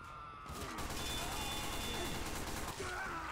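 Rapid SMG gunfire from the Sniper's submachine gun in Team Fortress 2, a dense continuous burst of shots lasting several seconds, loud and close in the game mix.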